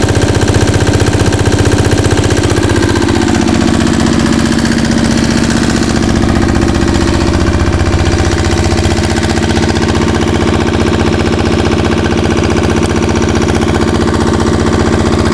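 A 65-year-old Onan diesel generator set runs under load, a loud, steady engine drone with a rapid, knocking pulse that stays constant throughout, close up and with no talking.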